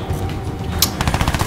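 Gunfire from the player's weapon in the shooter Crysis 2, a close run of rapid shots over a steady game backdrop, the bursts growing sharper and more regular toward the end.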